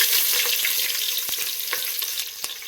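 Oil heating in a pan for a tempering while cooking rural-style fish sambar gives a steady, loud sizzle with scattered sharp pops and crackles throughout.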